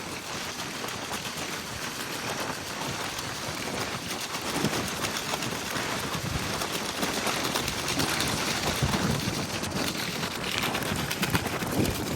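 Steady rain falls across an open Punjab farm field planted with potatoes, a dense continuous hiss of drops with some gusting wind, with no talking.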